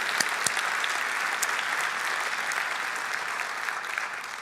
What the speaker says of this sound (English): So can we have a big, huge clap for Princess Dina?